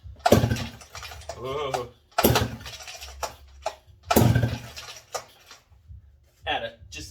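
McCulloch 55 gear drive chainsaw engine under revival, firing in loud bursts as the throttle is blipped, several uneven revs with quiet gaps between, and a voice exclaims near the start.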